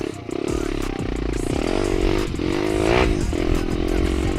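A Geon X-Ride 190 pit bike engine buzzes steadily while riding, with rising and falling revs, loud and close, with some rattling clatter mixed in.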